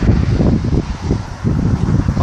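Wind blows across an industrial harbour at Port Est on Réunion, buffeting the microphone with a loud, steady, gusting rumble.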